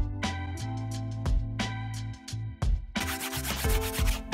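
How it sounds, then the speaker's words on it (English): Hand sanding on the wooden tail surfaces of a scratch-built RC DC-3 model airplane, close rhythmic rubbing strokes in short bursts that turn denser and more continuous near the end. "Finally, a bit of sanding and the tail surfaces were ready."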